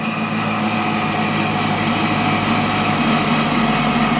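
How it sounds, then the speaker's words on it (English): A loud supercharged Camaro SS engine idles steadily with a deep, throaty exhaust rumble, continuous and close, with no voices. "The exhaust is pretty loud, but now that it's calming down."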